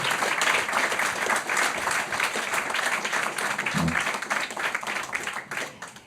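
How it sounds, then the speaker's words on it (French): An audience at a French talk and dialogue event gives steady, sustained applause, with a dense crowd of clapping hands filling the whole stretch at even loudness. "je vous laisse le temps d'applaudir Jean-Christophe Ruffin"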